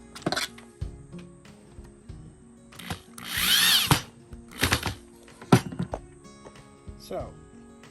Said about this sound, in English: if you're using a drill, just go nice and easy